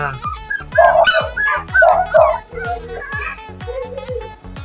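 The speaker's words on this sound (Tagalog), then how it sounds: "Ito na ang aming mga tuta." Puppies bark close and loud in a rapid string of high yips and whimpering cries, one after another, over a rhythmic low thumping in the background.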